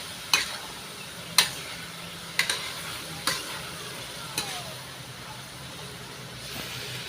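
Alamang shrimp paste sautéing in a pan gives a steady sizzling hiss, broken by several sharp scrapes and clinks of a utensil against the pan.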